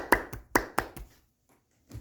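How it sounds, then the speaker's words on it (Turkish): A single person claps a handful of times indoors, sharp close hand strikes spaced unevenly over about a second, then near silence with one faint tap at the end. "Alkışlar"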